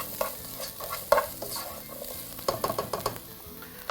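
Onions sauté in a pan with a soft sizzle under repeated stirring scrapes and taps, fairly close and moderate in volume, with no voices.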